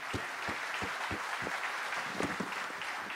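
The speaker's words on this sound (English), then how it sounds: "Big round of applause for them." Steady rhythmic clapping from an audience at a corporate engineering competition finals, with a low thumping beat underneath, moderately quiet and continuous.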